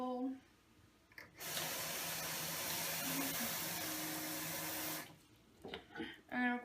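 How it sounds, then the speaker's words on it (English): Water pours steadily into a bowl for several seconds as a continuous rushing splash, framed by quiet moments before and after with faint tonal sounds around it. "we're going to put a little more water in this bowl."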